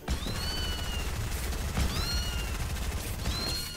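A cat character in the Fortnite video game meows three times at a steady spacing, each call a bright, wavering cry laid over a dense bed of in-game noise and rumble.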